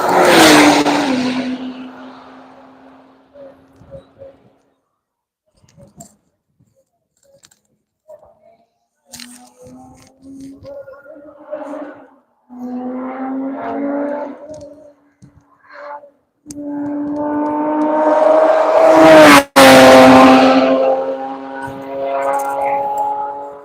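Race cars, including a Corvette Grand Sport, an NSX and a Lotus, lapping the Road Atlanta circuit during an afternoon session, passing in loud engine surges that build and fade, with a quiet lull between passes.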